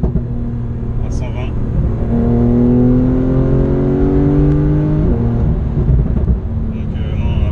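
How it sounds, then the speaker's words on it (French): A Porsche 911 Turbo of the 991.2 generation with a Fabspeed exhaust pulls hard in third gear at around 120 km/h, its engine note climbing steadily through the revs, loud and close from inside the cabin. "La sonorité est top. Donc là par exemple je suis en troisième"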